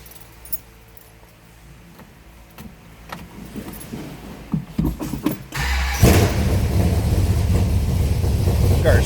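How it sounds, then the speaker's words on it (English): A 1969 Plymouth Satellite is started with a key: faint jingling and cranking over the first seconds, then the engine catches and settles into a loud, steady rumbling run close by. "Let's go ahead and fire this up so you can hear the baby run."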